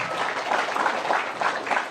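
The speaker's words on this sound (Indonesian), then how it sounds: "Tepuk tangan untuk mahasiswa-mahasiswi kita" An audience at a graduation ceremony for economics graduates gives a short, loud burst of continuous applause.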